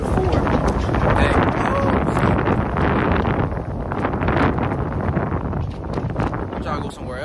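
Strong outdoor wind buffets the microphone in a continuous loud, rumbling roar, with faint voices showing through now and then.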